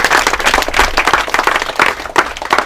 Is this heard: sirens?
no